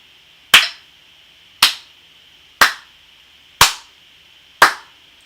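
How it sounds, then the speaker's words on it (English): Five sharp, evenly spaced hand claps ring out about a second apart in a slow steady beat during a beginning violin lesson, each crisp and close with a short ringing decay, separated by near silence. "Let's clap the rhythm together one more time."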